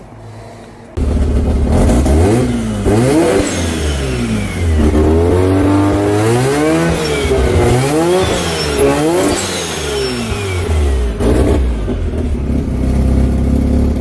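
A Mazda RX7 rotary engine fires up and revs repeatedly, loud and close, with rising and falling sweeps of pitch over a rough idle and no talking.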